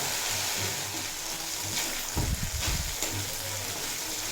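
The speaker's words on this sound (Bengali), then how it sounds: "বাটা মশলার কাঁচা গন্ধ চলে যাওয়া পর্যন্ত ভেজে নিয়েছি" Ground masala paste for a keema and cauliflower dish fries steadily in a pan, a broad soft sizzle running throughout with a short burst of stirring or scraping midway; no one speaks.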